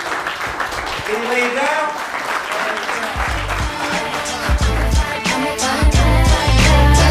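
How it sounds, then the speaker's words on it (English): Applause from an audience at a talk on fatherhood and family problems, loud and sustained across the whole stretch, with a voice speaking over it and some music-like tones underneath. "Give a big round of applause, dog."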